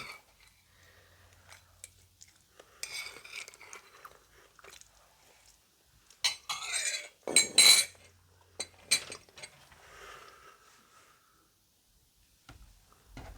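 A spoon scrapes and clinks against a bowl of porridge in short, scattered bursts, close and fairly quiet. Soft chewing and mouth sounds fill the long silent gaps between bursts.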